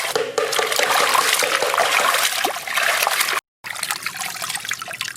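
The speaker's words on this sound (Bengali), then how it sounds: "মাছটাকে ভালো করে ধুয়ে নেব।" Water splashes and trickles loudly as a stingray fish is washed, a close, steady rush broken by one brief pause before the splashing resumes.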